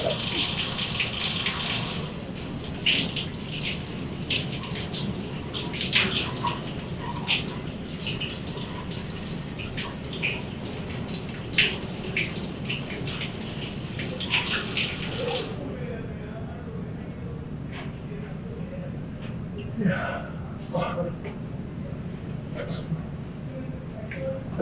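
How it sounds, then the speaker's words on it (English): Running tap water gushes steadily over a glazing brush being rinsed, loud at first and then fading to a softer, quieter trickle with small splashes. "Now I'm going to rinse it, and it'll be just as good as"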